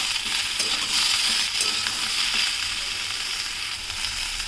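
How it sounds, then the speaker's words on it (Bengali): Cauliflower stems with green chili and tomato fry in a pan, giving a loud, dense, continuous sizzle with faint stirring scrapes underneath. "দিয়ে আবার একটু নেড়ে চেড়ে ভেজে নেব।"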